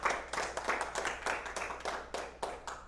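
Rhythmic group hand clapping at a church service, steady beats about four per second, fairly close and loud with no talk over it.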